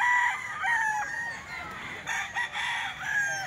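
Market gamecock for sale gives a couple of crowing calls close by, the second softer, amid light background bustle.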